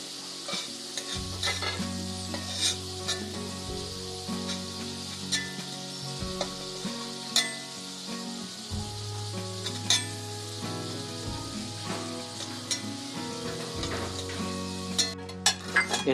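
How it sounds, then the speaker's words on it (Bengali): Potatoes fry in hot oil while being stirred, a steady close sizzle broken by repeated scraping strokes of a utensil against the pan, with occasional light metallic clinks; no one speaks. "আলুগুলোকে ভালো করে লাল করে ভাজবো।"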